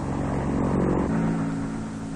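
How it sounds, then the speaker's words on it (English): A Sioux helicopter used for military reconnaissance flies overhead, a steady droning engine and rotor hum that holds constant and fairly loud throughout. "Sioux helicopters are used in target spotting and general reconnaissance, working closely with the infantry."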